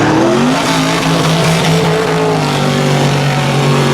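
Loud, steady engine roar with rising revving tones as a black truck and a Mercedes launch hard at street drag races, a continuous mechanical drone filling the whole clip.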